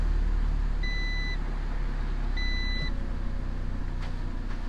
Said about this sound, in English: And now that's where it idles at right there.